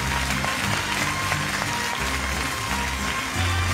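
Audience applause for a singing group on a televised talent show, broad steady clapping layered over low sustained music, continuing without a break.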